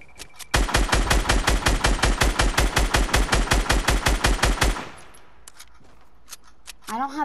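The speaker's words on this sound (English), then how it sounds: "He's mini gunning." Minigun in the video game Fortnite firing one long, rapid sustained burst of loud, evenly spaced shots for about four seconds before cutting off, followed by quieter game sounds.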